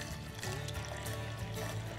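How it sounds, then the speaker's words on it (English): Water poured into a bowl to make cinnamon bread dough, a steady close pour lasting about two seconds with no talking. "we're going to pour in 7 5/8 of an ounce of water"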